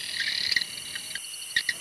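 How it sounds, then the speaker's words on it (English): A marsh cave frog in Kakadu gives a short, high trilling call in a few quick pulses over a steady chorus of night insects. "Hear that? That's it. A marsh cave frog."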